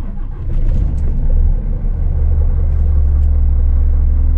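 A car engine cranks and catches on a cold day, a deep rumbling that swells after half a second and settles into a loud, steady idle, close by with no talking.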